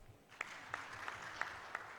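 A faint audience claps for a panel at a high-level civil society consultative meeting: a quiet, scattered handful of distinct claps spaced irregularly over about two seconds, distant and sparse.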